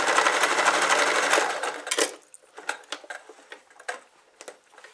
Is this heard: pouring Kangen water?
no